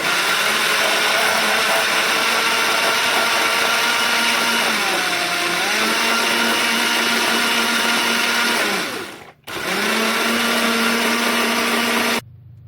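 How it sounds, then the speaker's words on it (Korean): A blender grinding garlic, olive oil and broth into a smooth sauce, loud and continuous whirring that dips in pitch as the blades load, cuts out briefly near the end, then resumes before stopping abruptly. "자, 이제 믹서기로 갈아보도록 하겠습니다."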